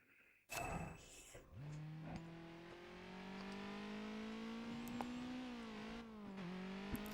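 Race car engine in the video game Burnout Revenge during a burning lap, a loud steady high-revving drone that climbs gradually and holds, with a brief burst of noise at the start and small shifts near the end.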